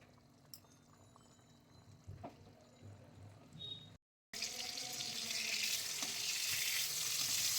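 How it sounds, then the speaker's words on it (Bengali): Cauliflower and potato pieces fry in hot oil, giving a faint crackle and stirring at first, then a loud, steady, hissing sizzle after a brief cut. "আমি বসিয়ে দিলাম ফুলকপি আর আলুগুলোকে ভেজে নিচ্ছি"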